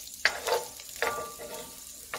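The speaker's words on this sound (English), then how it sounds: "Well, you need a little bit of sizzle." Onions sizzling in a pan while being stirred for a one-pot baked bean stew, with soft frying crackle and a few sharp scrapes of the utensil against the pan, no talking.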